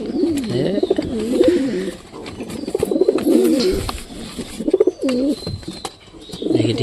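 Pigeons coo repeatedly nearby, soft warbling rolling calls in bursts with short pauses, alongside occasional light taps and rustles.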